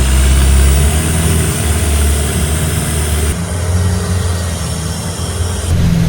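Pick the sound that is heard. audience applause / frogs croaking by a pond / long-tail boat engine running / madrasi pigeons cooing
long-tail boat engine running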